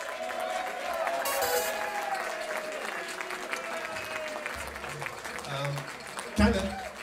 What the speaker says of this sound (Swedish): Ge en applåd för henne!